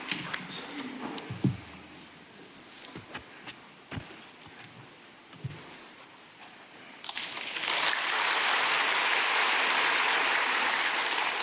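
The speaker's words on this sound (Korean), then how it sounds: "우리 김양일 형제님 나올 때 박수로 환영하겠습니다" A church congregation applauds to welcome a member coming forward to give testimony before baptism. Scattered shuffles and light knocks come first, then broad, sustained clapping swells up and fills the hall.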